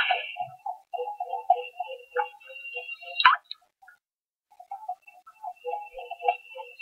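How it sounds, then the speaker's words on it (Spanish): A repeating electronic blip pattern from a Doraemon fishing game plays in quick, bouncy beeps as a big shark passes, pausing once after a sharp click, then resuming. "Cuando suena así es porque va pasando este gran tiburón."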